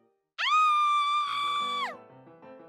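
A girl's single loud, high-pitched scream holds steady for over a second, then cuts off, followed by quieter low tones.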